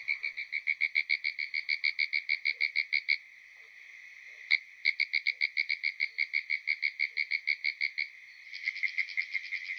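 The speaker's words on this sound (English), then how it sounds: "Pinewoods tree frogs sound a bit like Morse code frog." Pinewoods tree frogs calling in a forest, rapid trains of clicking, tapping pulses like Morse code that stop briefly and restart, with a second overlapping chorus near the end.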